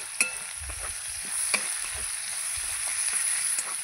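Chopped onion sizzles in hot oil in a pan, with a steady frying hiss and scraping stirs of a spoon recurring every second or so, close and fairly loud, no voices.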